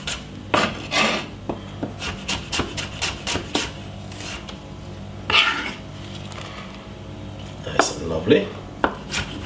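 A knife chops red onion on a cutting board for a rocket salad, a series of sharp, close knife strikes in quick irregular bursts with short pauses, and a brief spoken comment partway through.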